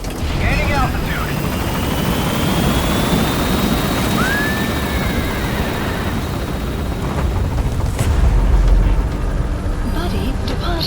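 Helicopter in the Metal Gear Solid V video game lifts off and gains altitude, its rotors and engine roaring as a dense, loud wash, with radio-style voices talking over it.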